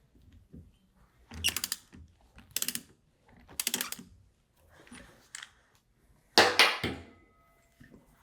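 Ratchet wrench loosening the rotor nut on a Waukesha Universal twin screw pump during maintenance, heard as several short bursts of rapid clicking separated by quiet gaps, close and crisp.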